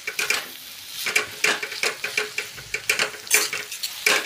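Spoon scraping and clinking in a pan as crushed nut powder is stirred into cooked wild chigal greens, a quick, close, irregular rhythm of strokes over a faint sizzle.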